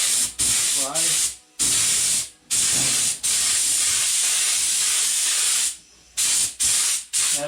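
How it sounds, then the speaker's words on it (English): Spray can hissing in a series of short bursts during a timber floor install in a VW Kombi, then one long continuous spray, followed by a few more quick puffs, loud and close. "anywhere where this board's going to sit, that's where you want to"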